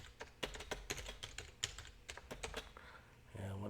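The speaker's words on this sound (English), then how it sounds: "and I got to type in the password." Someone types a password on a computer keyboard, a quick, irregular run of close, light key clicks, fairly quiet, with a brief low hum near the end.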